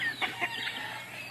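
A large backyard chicken, about two months old and fairly mature, gives a few soft clucks up close, standing alone without talk.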